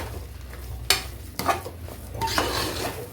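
A spoon scrapes and clinks against a pot as ground spice powder is stirred into sambar rice, a few sharp metallic knocks between softer scraping strokes, close and alone without talk.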